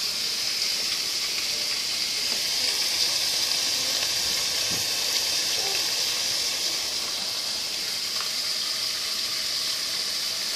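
Steam rises from a pan of heating water on a cooking setup, giving a steady, even hiss with a faint watery rush underneath, continuous at moderate level and without speech.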